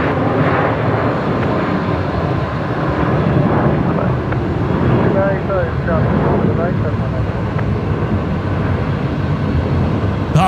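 A Qatar Airways airliner lands at Brisbane Airport, a broad, steady roar of jet engines that stays loud throughout, with voices talking underneath it.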